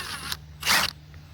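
An impact gun loosens harmonic balancer bolts on a 2001-2004 Kia/Hyundai 1.6L engine, giving a couple of short mechanical rattling bursts, the second louder and longer, close by with no talk.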